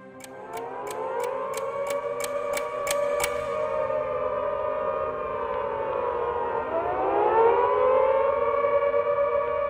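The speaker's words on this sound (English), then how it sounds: "The sirens pervaded the whole atmosphere all over the city." WWII civil defense air raid sirens wailing over Coventry, a loud sustained multi-tone howl that holds steady and then slides upward in a rising wail, echoing across the city, with a rapid ticking pulse early on.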